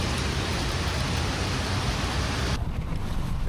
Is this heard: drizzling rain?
yes